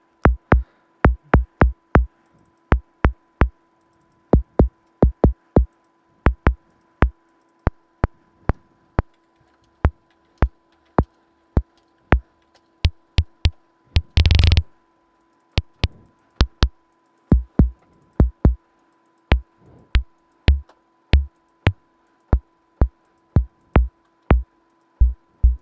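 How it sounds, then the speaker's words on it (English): Raw analog-style synthesized kick drum from an Ocean Swift Synthesis Cyan Kick module, struck repeatedly in loose rhythmic groups of dry, punchy low thumps with clicky attacks, plus one brief loud noise burst midway; no voices. "it's kind of hard to just hear a raw kick sound and maybe envision how you'll use it"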